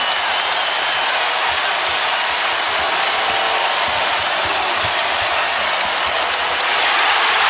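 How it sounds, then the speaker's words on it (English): Dense, loud crowd roar fills a basketball arena at Rupp Arena during Kentucky vs Arkansas, a sustained wall of cheering and noise with no clear break. "Here comes the crowd at Rupp."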